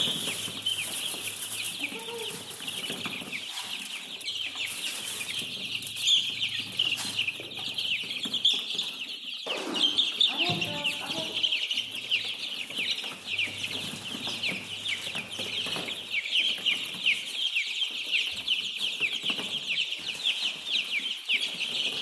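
Baby chicks cheep constantly in a high, dense chorus while feed is spread on the floor, with occasional rustles and scratching beneath the chirping.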